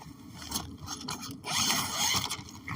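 A zipper on an Ozark Trail 4-person dome tent drawn along its track in a steady run of scraping, rasping strokes, close and fairly loud, with no talk over it.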